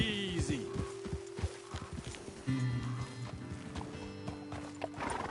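Horses walking in the video game Red Dead: steady, close clip-clop of hooves with a neigh partway through, over a sustained tonal background.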